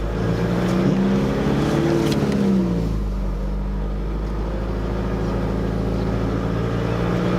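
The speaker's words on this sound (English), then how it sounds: "we're just in low range, second gear, taking it easy through here" A 4WD with a boat churns through soft beach sand on an island in low range and second gear. Its loud, continuous engine drone dips in pitch partway through, then settles into a steady labouring hum.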